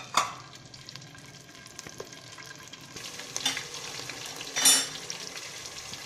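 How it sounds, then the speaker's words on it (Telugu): Green chillies and curry leaves are tempered in hot oil in a pan, making a soft, steady sizzle punctuated by a few louder crackles and utensil scrapes. "తాలింపు వేసుకోవాలి"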